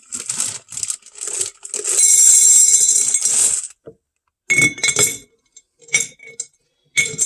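Jelly beans pour into a glass vase in a long, dense rattling clatter, followed by shorter bursts and scattered clicks of candy hitting glass, close and fairly loud.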